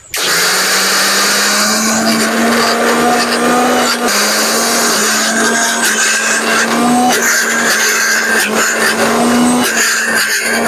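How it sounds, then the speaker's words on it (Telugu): A mixer grinder grinding soaked black-eyed peas into vada batter gives a loud, close, continuous whirring motor whine that holds steady, with small shifts in pitch as the load changes. "మన వడలకి ఎట్లాగైతే మిక్సీ పట్టేసుకుంటామో ఆ విధంగా మిక్సీ పట్టేసుకున్నాం"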